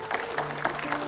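Applause from an audience at an Islamic religious talk, a short, moderate burst of clapping with rhythmic peaks, somewhat muffled.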